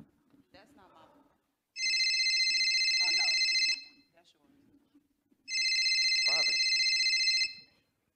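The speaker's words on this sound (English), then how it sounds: "Your phone ringing, baby." A telephone rings in two long electronic bursts, each about two seconds, loud and near, with quiet talk in the pauses between rings.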